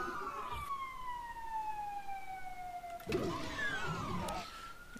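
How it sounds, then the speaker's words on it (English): An ambulance siren wails past outside, its falling and rising tone sweeping steadily, moderately distant and muffled over low traffic rumble, a second siren cycle layering in near the end. "Ambulance going by outside."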